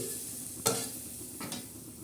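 Black masala for a spicy chicken curry sizzles steadily in a pan, broken by two sharp scraping strokes of a spoon stirring it.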